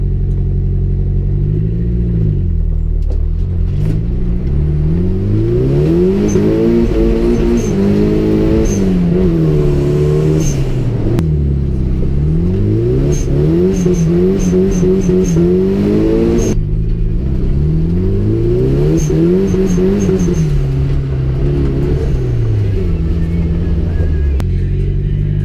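A 1989 Nissan 240SX engine revs up and down in repeated sweeping surges while drifting, loud and continuous throughout with no pauses.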